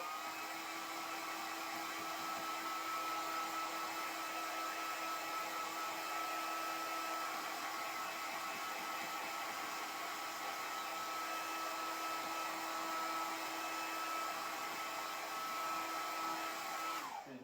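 A hair dryer blowing steadily on poster paint for a children's painting, a loud continuous whirring drone held close without pause, then cut off abruptly at the end.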